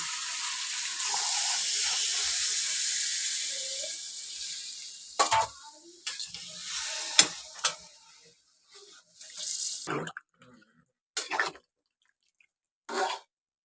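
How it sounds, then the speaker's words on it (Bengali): Hot water poured into a pan of chicken curry, a loud steady hiss and sizzle lasting a few seconds, followed by scattered clinks and short bubbling bursts, close by. "গরম জল ঢেলে দিচ্ছি।"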